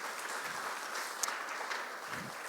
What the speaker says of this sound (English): One more round of applause for our awesome sponsors.